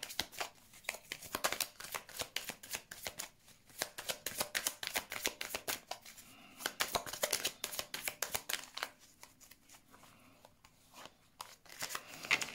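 Tarot cards shuffled repeatedly for a reading, a dense run of quick papery riffles and flicks continuing close and steady.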